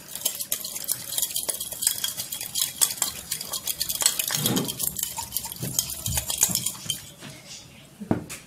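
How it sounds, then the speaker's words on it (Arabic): A small spoon stirring a mustard marinade for crispy breaded chicken cutlets, with repeated close clinks and scrapes against the bowl in an irregular rhythm, no talking. "وهقلب كل التتبيلة ديت"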